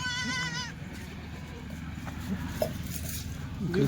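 A Kathiawadi dairy goat gives one clear, harmonic bleat near the start, then a steady low rumble of farmyard background noise and faint murmuring follows.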